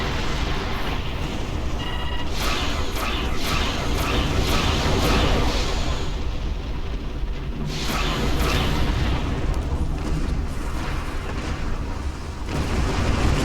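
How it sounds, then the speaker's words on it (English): Star Trek Online space combat plays out as a series of torpedo launches and booming explosions. Whooshing bursts and heavy impacts repeat over a constant rumbling bed. "Torpedoes"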